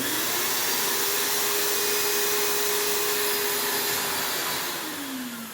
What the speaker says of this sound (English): She can turn on the vacuum.